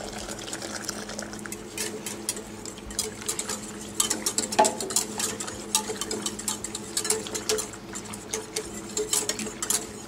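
Gastrique sauce being stirred into braising liquid in a pan for bigarrade sauce, with a steady run of soft wet scraping and clinks from the utensil, moderately close and without any talk.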